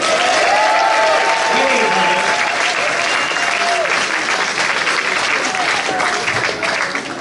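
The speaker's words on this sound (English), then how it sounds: "preparing for some massive applause" Loud, sustained applause from a crowd at a Key West candidate meet-and-greet, a dense unbroken wash of clapping lasting throughout with cheering voices mixed in.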